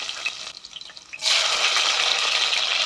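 A tap runs into a sink while a pressure cooker is washed, starting with light scattered splashes before a steady loud gush of water takes over.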